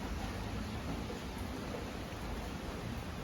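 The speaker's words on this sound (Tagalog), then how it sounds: "Sana tumigil na yung ulan" Faint, steady rain hisses continuously with no breaks and no voices.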